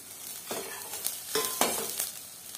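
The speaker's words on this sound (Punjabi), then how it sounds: "ਅਦਰਕ ਤੋਂ ਬਾਅਦ ਹੁਣ ਆਪਾਂ ਪਾ ਦਵਾਂਗੇ ਕਟਿੰਗ ਕੀਤਾ ਹੋਇਆ ਪਿਆਜ਼" Chopped onion frying with ginger in a pan, a soft hiss broken by a few short bursts of stirring and scraping, close and moderately loud, with no speech.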